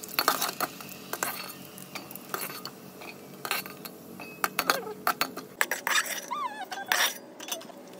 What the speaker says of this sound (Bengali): তেল গরম হয়ে আসলে এভাবে ফুচকাগুলোকে ভেজে নেব